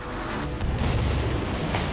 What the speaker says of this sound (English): Juicing the inside of fruit with an explosion.